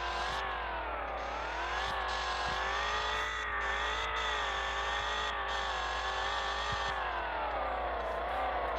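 A Ford Mustang GT engine in a car simulator game drones at steady, loud revs, its pitch rising and falling gently as it drives along, with faint clicks and no talk.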